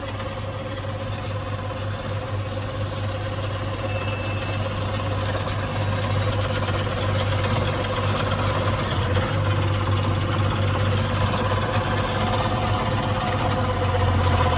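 A Massey Ferguson 5S.145 tractor idles at 750 rpm with a steady, even diesel drone and low hum, close by and unchanging throughout.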